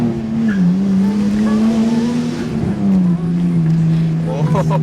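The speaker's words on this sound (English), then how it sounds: "the turbo flutters like crazy" A Nissan R34 Skyline GT-T sedan with a single-turbo RB25 engine and rear-wheel drive: a steady, loud engine drone carrying a rapid turbo flutter close by, with speech over it.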